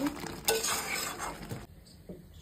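Goat meat cooking in a pan while a utensil stirs and scrapes through it, with a soft sizzle and a few metallic clinks, close up, then quieter toward the end, with no voices.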